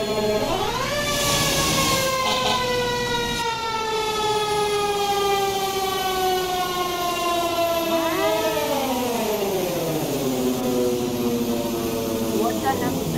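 A choppy fire truck siren drones on a long, steady pitch, then sweeps downward into a lower wail, loud and continuous throughout the stretch.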